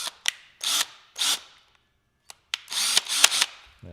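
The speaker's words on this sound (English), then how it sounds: "Maybe if we run it in with a drill real fast." Power drill driving a screw into foam while building severe weather probes: several short, loud whirring bursts of varying length, separated by brief pauses, close to the microphone.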